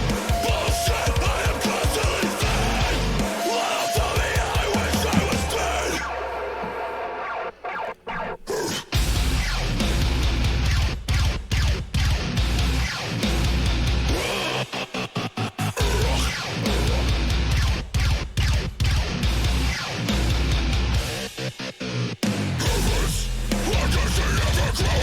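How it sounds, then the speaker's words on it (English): "Loathe" by Left to Suffer plays loud and dense, a deathcore track with heavy 8-string guitars and pounding drums. The full band drops out briefly partway through and then slams back in. "this is a clip of a song called Loathe by Left to Suffer"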